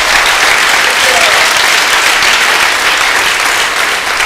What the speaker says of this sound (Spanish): Denle un aplauso fuerte al Señor esta noche.